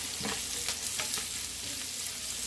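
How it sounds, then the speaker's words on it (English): Garlic cloves sizzle in a pan for shrimp and chorizo paella, a steady close frying hiss with light stirring scrapes and no talk. "Nice 3 garlic cloves. And cook it down for 1 minute."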